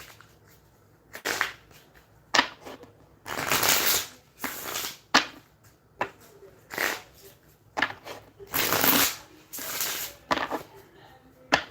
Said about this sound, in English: I'm just finishing the shuffle.